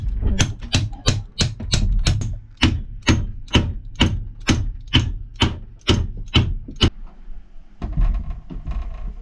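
A hammer banging a boat keel back into place, a fast run of loud, sharp, evenly spaced strikes, then slower heavy blows with short pauses, and a brief duller thud at the end.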